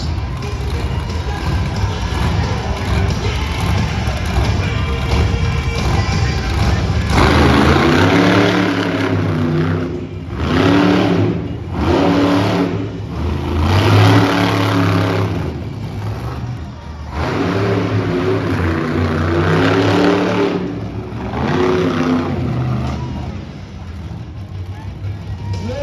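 The T-Rex monster truck engine revs hard at a Dallas monster truck event, loud and near, with repeated throttle surges and pulsing roars as an announcer talks over the noise.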